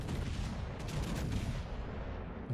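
Naval gunfire in the World of Warships: Legends video game, dense rumbling booms rolling continuously and loudly, heavy low blasts layered with a sustained roar and no voices.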